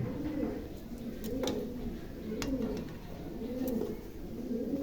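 Pigeons coo in a steady, repeating rhythm throughout, several birds close by and moderately loud, with faint sharp clicks and rustles in the background.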